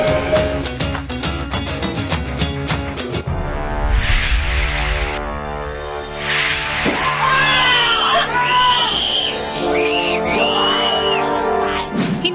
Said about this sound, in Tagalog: Hindi ka mauubusan ng sigaw sa mga panakot sa horror house na ito sa Parañaque.